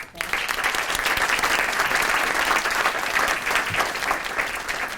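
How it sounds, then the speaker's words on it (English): Steady applause from an audience, dense and sustained for several seconds at an even, fairly loud level. "Can we do one more round of applause for our amazing alumni speakers?"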